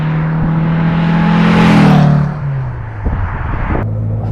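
A 1962 Porsche 356 B 2000 GS Carrera 2 with its two-litre engine drives past close by, its note swelling loud and rising to a peak, then easing off to a lower steady drone.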